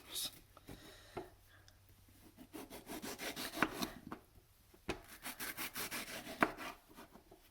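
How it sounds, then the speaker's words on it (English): Knife slicing through a mango on a cutting board, with irregular rasping, scraping strokes in bursts, close up and fairly quiet. "I'm ready to start slicing my mango."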